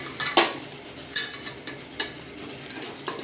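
Kitchen tongs knock and clink against a pan in a bachelor kitchen, giving a few sharp metallic taps spaced unevenly over a couple of seconds, close by and fairly crisp, with no talk.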